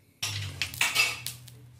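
A stainless steel wok is handled on a kitchen stove while pork is cooked Toraja style, giving a quick cluster of close, sharp metallic clanks and scrapes over about a second and a half, with no talking.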